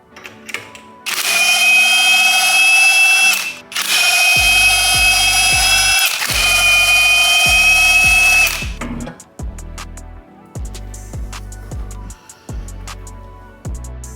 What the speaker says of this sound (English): you're just gonna have to drill a hole in them